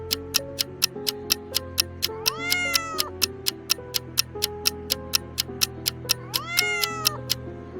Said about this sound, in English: Martha is calling her cat